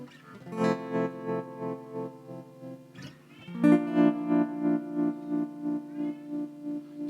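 Acoustic guitar chords ring through a pulsing effect pedal that throbs in a steady rhythm, with a strum restarting the pattern halfway through.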